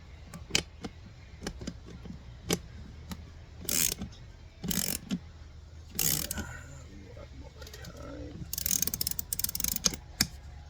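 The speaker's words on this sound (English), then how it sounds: "Put on the locking nut." A locking nut is fitted and tightened, giving a series of close, sharp ratcheting clicks and short mechanical bursts separated by quiet gaps.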